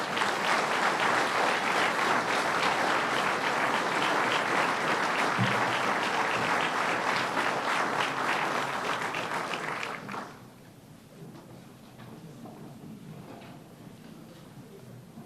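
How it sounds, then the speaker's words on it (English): A big round of applause for Jimmy Cahill, President of New York Building and Construction Trade Unions, at a governor's construction announcement. Loud, dense clapping from a large crowd lasts about ten seconds, then quickly dies away to quiet room tone. "give a big round of applause to Jimmy Cahill"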